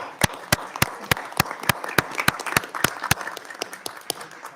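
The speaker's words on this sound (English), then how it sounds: "let's give them a round of applause" Audience applause for visiting students at a congressional judiciary hearing on Capitol Hill, steady rhythmic clapping with distinct loud claps across a room, fairly close and with no talk over it.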